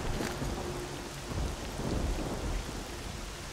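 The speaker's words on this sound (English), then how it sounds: "Oh, the rain's so loud out here." Heavy rain with rolling thunder in the game S.T.A.L.K.E.R.: Shadow of Chernobyl: a dense, steady downpour with a low, rumbling roll swelling through the middle, no voices.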